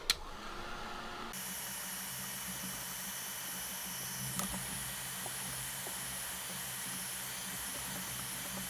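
Shimmer mist spritzed from a spray bottle onto a stamped card, heard as a steady soft hiss of fine spray that runs almost unbroken, with a brief sharp click at the start and a small bump midway.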